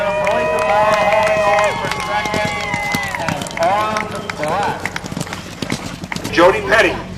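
Racehorses gallop to the finish line at Plumstead Farm, their hooves drumming under a race caller's fast commentary and crowd noise.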